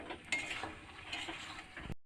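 Meat curry is stirred and sautéed in a pan, with scraping spoon strokes against the metal over a soft frying sizzle, close and continuous for a couple of seconds before cutting off.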